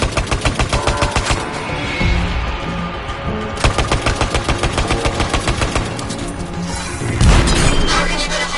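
Rapid automatic gunfire in Anthem rattles in long, dense bursts aimed at Valkyries, loud and close, with sharp crashing impacts and explosions breaking in between the volleys.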